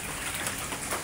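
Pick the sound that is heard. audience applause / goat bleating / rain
rain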